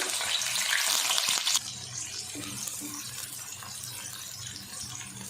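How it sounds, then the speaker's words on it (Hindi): A large onion is dropped into half a cup of hot ghee in a wok, setting off a loud burst of hissing sizzle that settles into a steady, quieter frying crackle. "घी गरम हो गया, अब इसमें एक बड़ी प्याज डाल देंगे"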